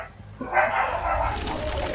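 Dogs bark and yelp in a room during a Dead by Daylight gaming session. The sound is a steady, moderately loud burst that lasts about a second and a half over background noise.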